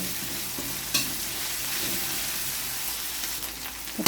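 Chopped tomatoes fry in a hot pan for squid adobo, giving a steady, close sizzle with a few stirring scrapes and a brief louder clatter near the start. No one speaks.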